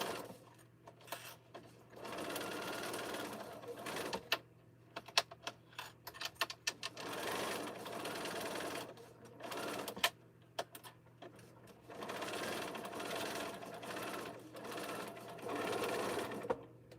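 A sewing machine topstitches a T-shirt quilt in a series of short, quiet runs, with brief pauses and small clicks between each burst of stitching.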